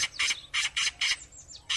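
Harsh, chattering magpie calls repeated in quick bursts, about five squawks, loud and close with short gaps between them.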